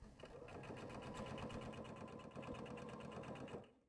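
A sewing machine stitches closed the turn opening in the lining of a sippy sling, running in one steady, close, unbroken burst before stopping abruptly.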